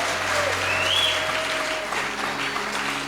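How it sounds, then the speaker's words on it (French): A church congregation applauds together, a steady, full wash of clapping from a crowd that holds for a few seconds before easing slightly. "Acclamons le Seigneur notre Dieu."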